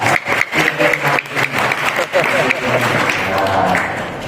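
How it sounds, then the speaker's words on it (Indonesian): An audience at a Sunday morning religious study gathering in Jogja breaks into applause, bursts of clapping that start choppy and then settle into a steady, fairly close roar. "Kita beri tepuk tangan dulu ya."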